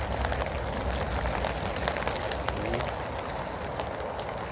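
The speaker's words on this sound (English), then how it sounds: "You can hear the rain." Rain falls steadily during a thunderstorm in Canada, a dense close hiss of drops on surfaces with faint scattered patter, continuous and without talk.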